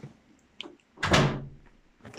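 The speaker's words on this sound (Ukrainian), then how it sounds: "то двері закрилися із-за повітря" A door blown shut by wind during an approaching hurricane gives one solid thud with a short rattling decay, with faint knocks and movement around it in a quiet room.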